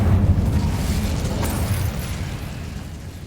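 Incendio fire spell cast in Hogwarts Legacy, a fiery whooshing burst that starts loud and fades over a few seconds.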